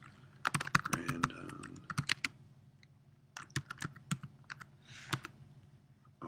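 Someone typing on a computer keyboard close up: quick clusters of crisp key clicks in short bursts, separated by brief pauses, moderately quiet.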